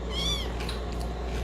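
A small kitten gives one high, drawn-out meow as it is pulled off an ice cream cone, close and clear, followed by faint scuffling over a steady low hum.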